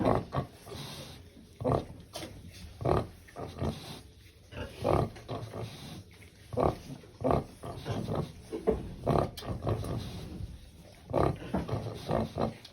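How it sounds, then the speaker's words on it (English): A nursing sow grunts rhythmically to her Duroc/Berkshire piglets on a farm, a steady series of soft, low pulsing grunts repeating about once a second throughout, fairly close and moderately quiet. "Mother pigs actually sing to their piglets as they're nursing."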